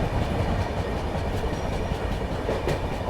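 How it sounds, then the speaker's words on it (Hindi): The Bihar Sampark Kranti Express rolls into Govindpuri station with a loud, continuous rumble and steady clickety-clack of wheels over rail joints, heard close and alone. "चलिए फिलहाल अपनी ट्रेन पहुंच चुकी है गोविंदपुरी रेलवे स्टेशन।"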